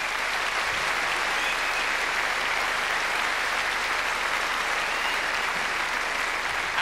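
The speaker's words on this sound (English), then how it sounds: "Give her a nice round of applause." Steady, dense audience applause at a live comedy stage show, loud and sustained throughout with no talk over it.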